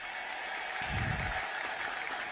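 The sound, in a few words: congregation ululating and applauding in praise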